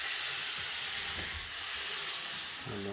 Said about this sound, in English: at full speed, you know, for a steam train, it runs nice and smooth